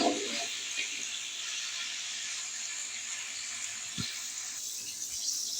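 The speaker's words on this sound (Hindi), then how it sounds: "तो अब हम इसमें पानी शामिल किया है।" Water poured from above into a pot of fried onion tempering for Pakistani chicken pulao, a steady soft hiss and rush of flowing water with a faint low clunk near the end.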